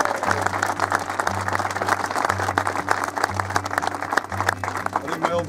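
An audience applauds a track owner at a racetrack Q&A, a sustained dense clapping that stays steady and moderately loud throughout, with a low steady hum underneath.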